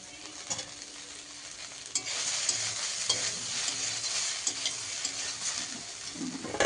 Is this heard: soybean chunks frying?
yes